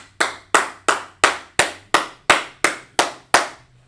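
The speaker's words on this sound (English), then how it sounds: "Clap it up for that brother right there." Ten sharp, evenly spaced hand claps, loud and close, with a steady rhythm and a low hum underneath.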